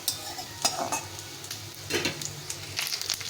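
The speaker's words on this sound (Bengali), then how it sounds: "চিনিটাকে ভালো করে পুড়িয়ে নেব, লাল লাল করে পেঁয়াজের সঙ্গে পুড়িয়ে নেব।" Onion and sugar frying together in a pan, a soft sizzle under scraping stirs of a utensil against the metal in a few separate strokes, close by, with no talking.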